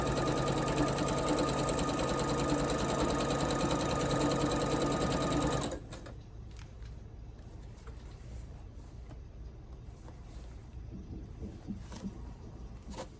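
A sewing machine stitches a quilt block in a steady, loud whirring run that cuts off abruptly partway through, leaving quieter room sound with faint clicks and handling afterward.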